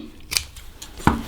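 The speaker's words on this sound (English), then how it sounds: "So now I'm just going to trim back all my loose bits of ribbing." Fabric scissors snip twice, trimming loose ribbing on a sewn coat: two crisp close cuts about three-quarters of a second apart, the second louder.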